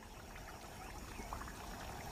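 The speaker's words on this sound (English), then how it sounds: "The water will slowly refill the dry channels and dusty lagoons." Floodwater of the Okavango on the Kalahari floodplains flows into dry channels and dusty lagoons, a steady close pouring and trickling wash of water that runs on evenly, with no voices.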